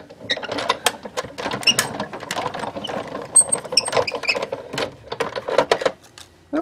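A die-cutting machine works through cardstock with a busy run of close mechanical clicks, rattles and whirring, uneven in rhythm and with no voices.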